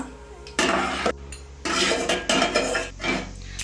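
Fried nuts slide and clatter from a metal pan into a bowl while making sweet vermicelli payasa in a home kitchen: several bright scraping, clinking bursts with short pauses, close and fairly loud, no talking.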